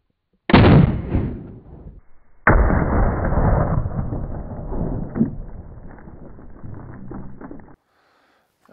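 A Daniel Defense DDM-4 rifle fires at an up-armored helmet plate on a range: two loud, sharp close reports a couple of seconds apart, each followed by a long rumbling decay before silence.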